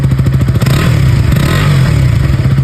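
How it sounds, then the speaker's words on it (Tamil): RC 200 motorcycle exhaust heard up close, a loud uneven throbbing burble with quick pulses and a brief rise in revs, mechanical clatter underneath, no voices. "இப்போ இந்த பைக்கோட எக்ஸாஸ்ட் நோட்டை கேளுங்க."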